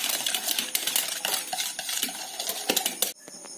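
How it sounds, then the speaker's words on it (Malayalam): Eggs being whisked in a bowl for a dragon chicken batter, a quick run of light clinking taps of utensil against the bowl, close and fairly quiet, with no talking. "ഇന്നിപ്പം നമുക്ക് നന്നായിട്ട് പതപ്പിച്ചെടുക്കാം"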